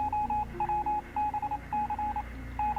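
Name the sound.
Morse code beeps, role-playing radio effect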